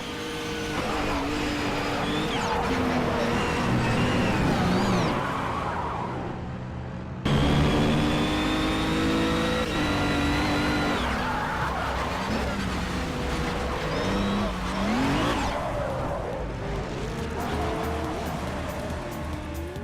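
Race cars in a Project CARS grid of 26, including a Ginetta GT4, roar loudly as engines rev and shift up and down through gears, with tyre squeal and cars passing close by.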